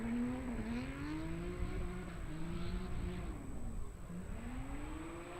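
A race car on a drag strip at Raceway Park, making a solo bye run at the Gambler event. The engine drones loud and steady throughout, with its pitch rising and dipping as it runs, and there is no talk.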